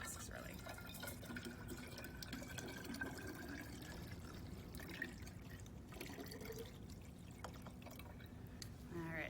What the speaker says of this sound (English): all we're doing is kind of mixing it up by pouring it back and forth between these two beakers